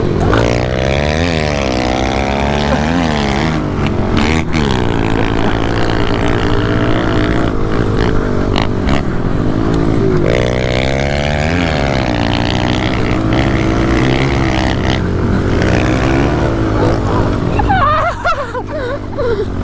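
Several pit bikes lap around the inside of an abandoned house, engines revving and rising and falling in pitch as they pass close by, loud and continuous, with voices shouting now and then over the motors.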